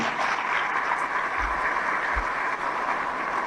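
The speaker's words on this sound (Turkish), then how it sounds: "Kendine bir alkış rica ediyorum." A crowd applauds steadily at the opening of a wastewater treatment plant phase in Çiğli, İzmir, a dense sustained patter of many hands clapping at an even level throughout.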